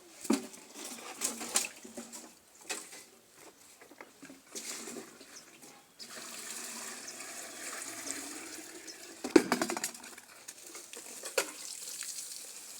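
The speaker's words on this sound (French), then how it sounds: "on arrose encore pour que vous puissiez voir" Water is sprinkled over an outdoor plant nursery bed, making uneven splashing and hissing bursts, with faint bird calls in the background.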